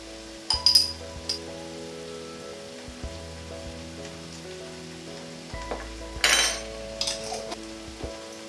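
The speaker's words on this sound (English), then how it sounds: "Just going to mix that in and get all the spices off the spoon." A spoon clinks and scrapes against a pan while dried spices like thyme and cayenne are stirred into a paella base, with sharp taps over a low, quiet sizzle, near and without talk.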